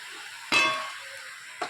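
Food fries in a pan with potatoes and a curry base. Two short bursts of loud sizzling stand out against near silence.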